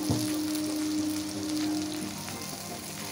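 Tomatoes hit hot oil in a pan of frying fish masala, giving a loud, steady sizzle with a bright burst at the start, continuous and close with no talking.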